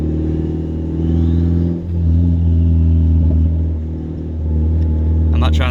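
A turbocharged Mazda 3, freshly repaired after an oil leak, cruises gently through a residential neighborhood. Its engine gives a steady low rumble from inside the car that briefly dips and then picks back up.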